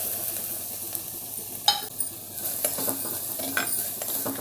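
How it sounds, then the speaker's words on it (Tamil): Grated carrot sizzling in ghee for a Diwali sweet, with a steady fry hiss and a few sharp stirring scrapes against the pan, no talking. "இந்த நெய்யிலே வந்து நம்ம துருவி வச்சு கேரட்டை போட்டுடலாங்க"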